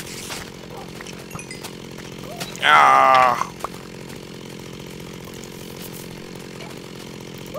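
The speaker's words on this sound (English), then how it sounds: "Trying to chainsaw skeletons and things." A chainsaw in a video game roars to life in a short loud burst lasting under a second, standing out over steady game background noise, with a voice exclaiming briefly.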